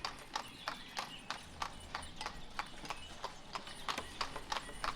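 Horse hooves clip-clop in a steady, even rhythm as a horse-drawn wagon rolls along in the village-building video game Ostriv, with the hoofbeats crisp and close against a quiet background.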